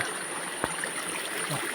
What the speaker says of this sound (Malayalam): അടിയിൽ നിന്ന് അതിശക്തമായി വെള്ളം തള്ളി തള്ളി വരുന്നത് കണ്ടോ